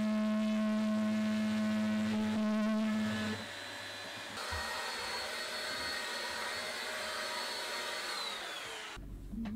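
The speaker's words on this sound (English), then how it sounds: "I'm going to use one of these multi-tools or renovators, whatever you like to call it." Oscillating multi-tool, or renovator, cutting inside a boat, giving a steady, loud, buzzing whine at the start that turns rougher and grittier as the blade bites, running almost without a break.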